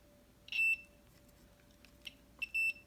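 Multimeter continuity tester beeping on moped wiring: two short, clear electronic beeps about two seconds apart, close and loud against quiet background hum.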